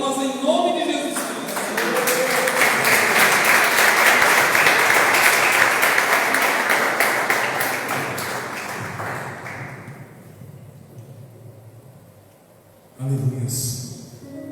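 A church congregation claps together in praise during a worship service, a loud, dense and steady applause that swells, holds for several seconds, then fades away before a voice begins speaking near the end.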